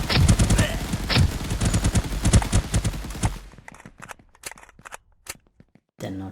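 Rapid bursts of gunfire from an Unreal Engine shooter template video game, dense and loud for the first three seconds, then thinning into scattered single shots with gaps of silence.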